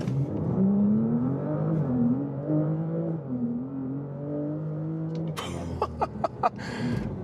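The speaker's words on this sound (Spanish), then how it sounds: "Eso ha sido de 0 a 130 aquí en el circuito cerrado, utilizando el modo RS Sport en el nuevo RS5" A 2026 Audi RS5 Avant plug-in hybrid launches from 0 to 130 on a closed circuit using launch control in RS Sport mode. The engine note climbs through several gears in rising sweeps, then breaks into a few sharp pops and crackles.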